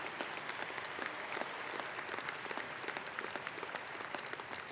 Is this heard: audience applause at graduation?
yes